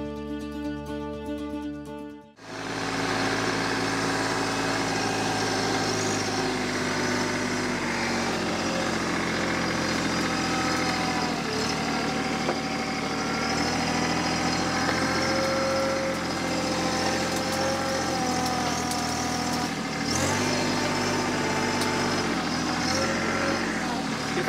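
A tractor fitted with a grapple runs its engine at a steady idle, close and continuous for over twenty seconds after a brief tonal start, with a slight dip partway through.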